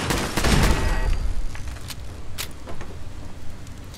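Turret gunfire in Fallout 4 starts as a loud close burst of rapid shots, then thins to scattered sharp cracks and rattles over a lower rumble.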